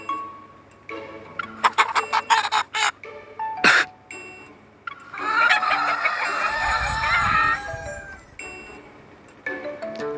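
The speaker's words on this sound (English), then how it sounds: "The chickens suddenly let out angry cries." Agitated chickens cluck and squawk loudly near a coop, with sharp bursts of clucking followed by a long crowing cry, close and harsh with no talk over them.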